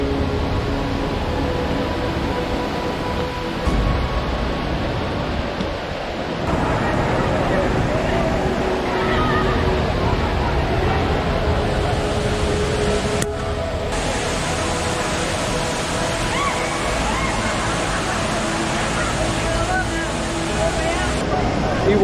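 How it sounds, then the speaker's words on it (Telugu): Devkund waterfall roars as a constant, full-bodied rush heard from a short distance on a crowded trek, with people talking nearby and a busy crowd's voices blending into the roar. "వాటర్ ఫాల్ సౌండ్ స్టార్ట్ అయిపోయినాయి. ఇక్కడ దాకా వినిపిస్తుంది వాటర్ సౌండ్ ప్లస్ అలాగే అందరు అరుస్తుంది."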